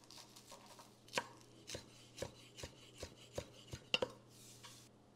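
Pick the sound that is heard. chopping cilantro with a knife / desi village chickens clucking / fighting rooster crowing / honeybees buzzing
chopping cilantro with a knife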